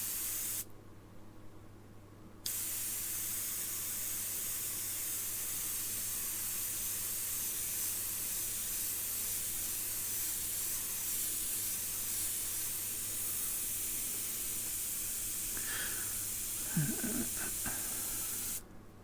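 Continuous airbrush spray hiss, steady and fairly loud, running for most of the stretch after a brief quieter opening, with a few faint clicks and knocks near the end.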